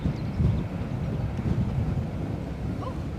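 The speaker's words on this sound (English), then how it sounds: "Wind's picking up again." Gusty wind at Edinburgh Airport rumbles and buffets the microphone in a steady low roar, with no other distinct sounds over it.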